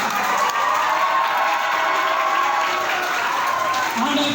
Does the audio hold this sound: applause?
yes